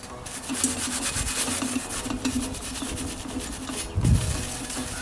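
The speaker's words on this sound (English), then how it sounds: "I'm going to hit it with a dry Scotch-Brite" A dry Scotch-Brite pad scrubs over a patinated bronze sculpture, a steady close rasping rub with uneven strokes and a slightly heavier pass near the end.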